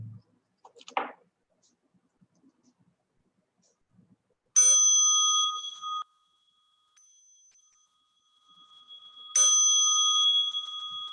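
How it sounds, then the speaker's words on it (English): A meditation bell rings twice, each strike bright and sustained with a long shimmering decay, separated by several seconds of near silence after a few faint soft knocks at the start. "Please listen to the bell."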